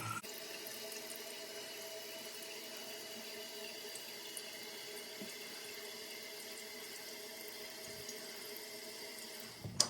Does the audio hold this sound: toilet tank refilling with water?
yes